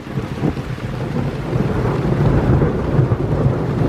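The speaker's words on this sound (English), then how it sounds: "Love the sound of thunder, me." Deep rolling thunder rumbles continuously, loud and close, with a soft wash of rain beneath it.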